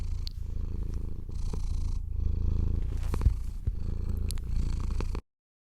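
A contented domestic cat purring steadily, a close, continuous low rumble with rhythmic breathing pulses, heard alone for about five seconds before cutting off.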